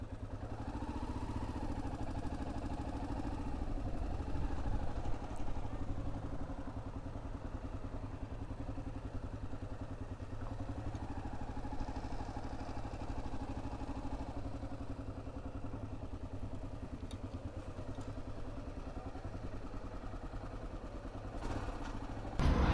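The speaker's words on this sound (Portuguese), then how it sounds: "Tem uma moto aqui já." A motorcycle idles close by at a roadside stop in the Pernambuco backcountry, its engine giving a low, steady, even rumble for the whole stretch with a faint clatter and no voices.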